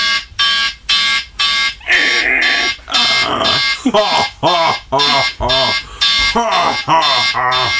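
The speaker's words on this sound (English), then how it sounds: "How do I stop it? I can't stop the timer." A kitchen timer alarm goes off, sounding loud and close in rapid, evenly spaced beeping bursts. Voices and laughter talk over the beeping as it keeps repeating.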